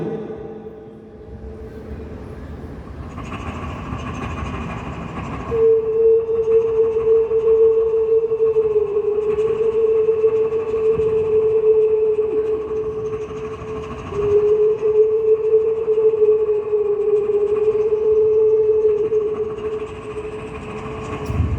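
One voice mimics a train engine and a siren at once, a rumbling chug beneath a steady, wailing tone that holds and shifts over a long, continuous stretch, with no talk.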